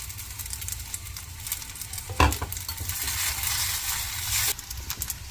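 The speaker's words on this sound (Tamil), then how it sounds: "தேங்காய் சேர்த்துட்டு லைட்டாக இது மாதிரி ஒரு மிக்ஸ் கொடுத்துக்கலாம்." Kozhukattai mixed with grated coconut in a pan, a steady scraping stir over a soft sizzle with one sharp clink partway through, close and alone.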